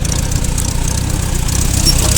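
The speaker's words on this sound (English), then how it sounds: "Gas tractors always sound like they're gonna die." An old gas tractor engine runs steadily and close while planting corn in second gear, a continuous loud low rumble with a slightly uneven, labouring beat and no talk over it.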